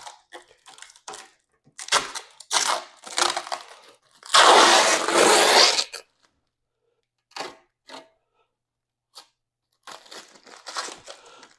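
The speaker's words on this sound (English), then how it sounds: "They also have an extra coating on here for the plastic that you can peel off." Protective plastic coating crackles and crinkles as it is peeled off a vintage record player and its hinges, in short bursts with one long loud tearing rip, then quieter intermittent crinkles, close up.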